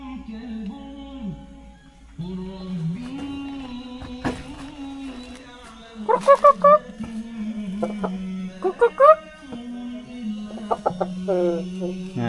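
Several large chickens, hens and roosters, cluck on and off at close range, with short sharp bursts of clucking standing out over steady background chatter of people talking.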